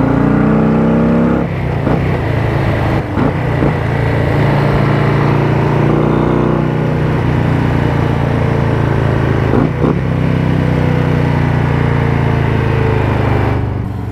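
A Harley Davidson Low Rider ST motorcycle rolls along at walking pace, its V-twin engine a loud, steady low rumble with slight throttle changes and brief gear-change dips throughout.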